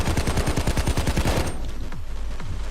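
Rapid automatic gunfire in Payday 2, a fast, loud string of shots for about a second and a half before cutting off, followed by scattered quieter game sounds.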